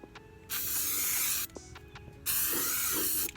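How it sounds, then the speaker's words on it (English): Aerosol spray paint can hissing onto a Mustang car in two sustained bursts, each about a second long, separated by a short pause, loud and close. "I'm about to spray paint this joint"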